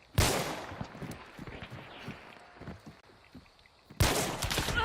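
Gunfire in the video game Hunt: Showdown, a loud burst opening the clip with scattered shots and movement noise following, then another heavy blast near the end.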